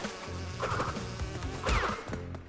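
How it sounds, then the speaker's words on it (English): Buzzing bees in the video game Crash Bandicoot 2, a continuous droning insect buzz swelling and fading with a couple of louder passes, game sounds faintly beneath. "these bees are a nightmare"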